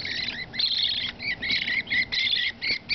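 Hand-fed baby American budgies chirping and twittering steadily, a continuous bright chatter of overlapping high calls, close and fairly soft, with no talking.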